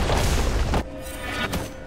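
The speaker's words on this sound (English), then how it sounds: "Blue team's turret has been destroyed." A turret being destroyed in League of Legends, a heavy booming crash that fills the first moment, then drops to quieter game effects with a smaller thud near the end.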